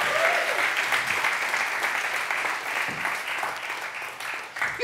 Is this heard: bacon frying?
no